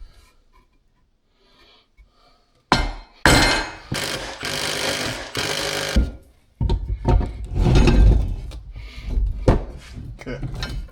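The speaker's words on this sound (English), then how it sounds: "Then we're just going to hammer it down so that I know where to do the spade bit." A hammer strikes down on a wheel crib dolly being built for a project car to mark the spot for a spade bit: after a quiet start, a series of loud, close, sharp blows lands in quick bursts, followed by scraping and handling noises.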